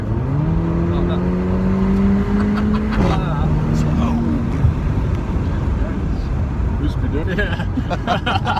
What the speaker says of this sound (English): if I went full throttle, this car's still got a lot more to give